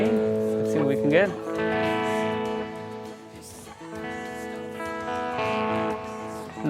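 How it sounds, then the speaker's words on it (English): Electric guitar through a Yamaha THR10X desktop amp, played with an echo breakup tone: distorted, sustained chords and bent notes ringing with repeats, loud and close, with short gaps between phrases. "Nice echo breakup tones."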